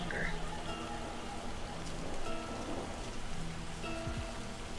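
Steady rain falls in the video game Livber: Smoke And Mirrors, a dense, even hiss that runs through the whole stretch, with faint sustained tones softly underneath.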